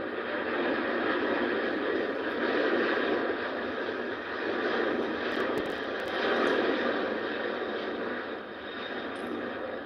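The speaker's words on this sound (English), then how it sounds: "It's flight VS45. And this one's flying all the way to New York." A Virgin Atlantic passenger jet, flight VS45 to New York, taking off from Heathrow: a loud, steady roaring engine rumble at middle distance that swells and eases slightly over several seconds, heard without talking.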